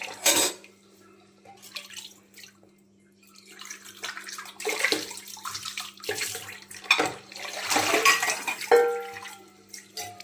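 Dishes being washed at a sink: bursts of running water, clattering pots and utensils, and drips, close by, with a faint steady hum throughout.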